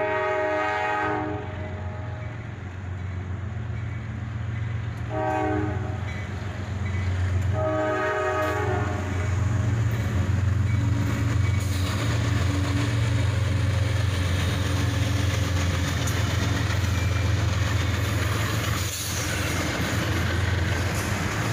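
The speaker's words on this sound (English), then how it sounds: "enjoy all of these awesome trains" Trains pass with a steady rumble and engine drone throughout, and a horn sounds several times early on in repeated blasts, loud and near, with no talking.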